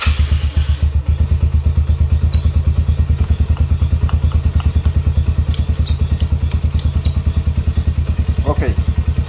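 A motorcycle engine that will not shut off is started up at a workshop and then runs with a fast, steady, loud putter and clatter. A short voice comes in near the end.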